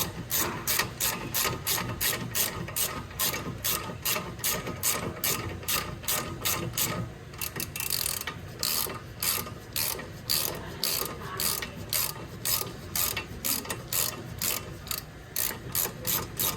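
A socket ratchet tightens the front brake bolts on a 2014–2018 Infiniti Q50, clicking in a fast, steady rattle of pawl ticks up close, with a short pause midway and no voices.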